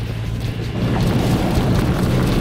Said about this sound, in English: The friction of the metal sled dragging through the dirt makes the task even harder.